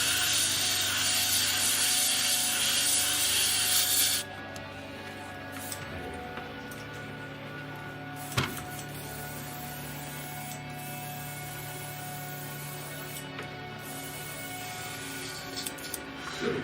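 An airbrush hisses steadily as it sprays paint onto a sculpted flange edge of a small vehicle model, loud and continuous for a few seconds, then drops to a quieter compressor hum with faint clicks.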